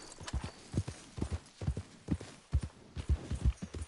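A horse in Red Dead Redemption 2 pounds along in a quick, steady gallop, each hoofbeat a loud, close thud in regular clusters with no voices over it.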